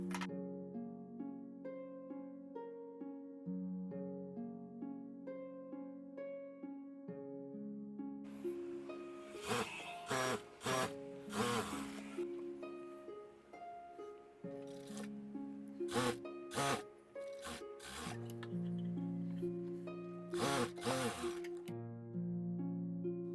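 A sewing machine stitches a straight hemming seam along a 1.5-inch cloth strip for a prince-cut blouse. Soft background music plays first, then quiet bursts of mechanical stitching start and stop at irregular intervals.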